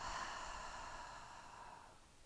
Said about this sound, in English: One more time, deep breath in. Exhale.